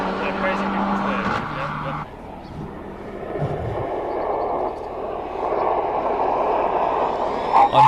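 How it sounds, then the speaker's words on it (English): Mercedes-AMG race car running through the speed trap at the Simola Hillclimb, an engine roar shifting pitch then fading into broadband rush, under a commentator talking. "you're watching Courtney Nickel in AMG doing 197 through the speed trap"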